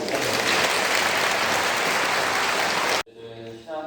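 A crowd at a Catholic lecture in Daejeon claps loudly and continuously for about three seconds, then the applause cuts off abruptly and a voice begins speaking.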